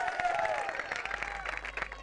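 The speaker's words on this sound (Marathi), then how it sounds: "यांच्यासाठी टाळ्यांचा गजर आपण करूया." Audience applause at a cricket league prize ceremony, the Songaon Premier League 2021, steady crowd clapping filling the whole stretch, fairly faint and distant with a hint of voices beneath.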